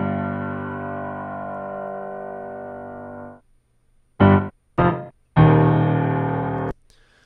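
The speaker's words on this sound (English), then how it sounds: "the piano sound." A sustained, heavily processed piano chord rings for a few seconds and cuts off, followed by a short pause and three loud, clipped chord stabs.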